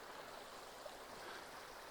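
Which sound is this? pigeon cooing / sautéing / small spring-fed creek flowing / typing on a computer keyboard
small spring-fed creek flowing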